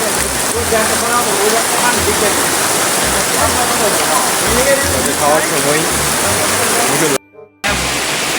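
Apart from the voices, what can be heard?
heavy downpour of rain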